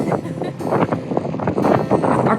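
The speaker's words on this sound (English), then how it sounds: "It's a little windy this morning." Wind blowing outdoors on a breezy morning, a loud continuous rushing buffeting against the microphone with gusty surges throughout.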